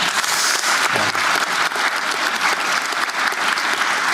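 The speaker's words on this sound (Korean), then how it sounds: "박수 한번 줘보세요 한번." An audience at a presidential address breaks into applause, a dense, steady roar of clapping from a large crowd that holds evenly for several seconds.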